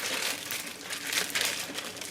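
A plastic bag of spice mix crinkles steadily as it is closed and shaken, a close, continuous rustle with no talk over it.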